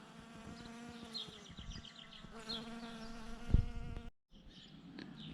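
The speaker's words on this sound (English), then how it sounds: "I got a little bee here working them too" A bee buzzes in the open among sunflowers in a garden, its hum wavering as it moves between flowers, with a light thump near the end and a brief drop out.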